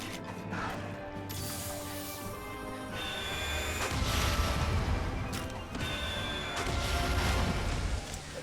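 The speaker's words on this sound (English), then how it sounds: "Those sorts of explosions chunk us a fair bit." Heavy crashing blasts and rumbling impacts from the action game Monster Hunter Rise roll through a busy, loud soundscape, with several explosive surges mixed among clanking, mechanical battle noise.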